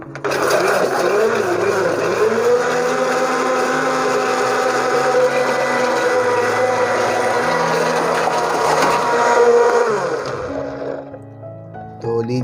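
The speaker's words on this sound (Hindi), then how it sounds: "अब इसको ब्लेंड करते हैं।" An electric blender grinds aloo bukhara (plum) chutney with a little water, a loud, continuous whirring roar for about ten seconds that shifts in pitch as the contents churn, then winds down.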